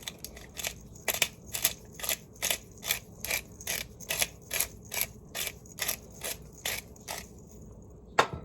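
A spice grinder cracks multicolored mixed peppercorns in a regular rhythm of about sixteen crisp, ratcheting crunches, each twist close and fairly quiet, with no talking.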